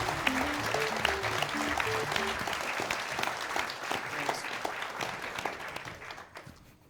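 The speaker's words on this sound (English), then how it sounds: "A round of applause for Orange Studio." A game jam crowd applauds loudly with dense, continuous clapping that fades toward the end, while a few voices sound faintly beneath it.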